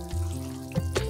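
Ground beef and rice being stirred in a simmering pot for a one-pot sloppy joe meal, a close bubbling sizzle with a couple of soft scraping knocks from the spoon, no talking.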